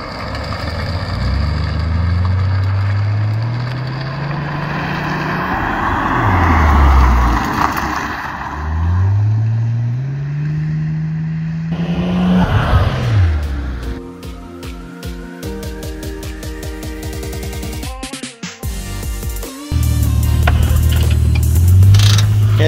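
Holden Commodore, a VL Turbo Calais or VF Clubsport, driven hard through a corner: the engine revs rise and fall repeatedly, with shifts and a harsh, loud surge near the close.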